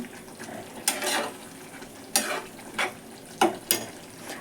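North Karnataka style ridge gourd curry boiling in a pan: a soft bubbling simmer broken by several sharp bursts of sizzle and spitting.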